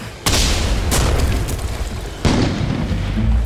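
Two heavy, booming explosions from a sci-fi horror story soundscape, each a sudden loud burst followed by a sustained rumbling roar that fills the clip.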